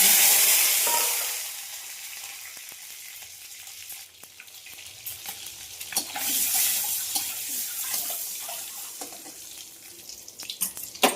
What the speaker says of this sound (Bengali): তো বন্ধুরা, গোটা ডিমটা ভেজে নিচ্ছি।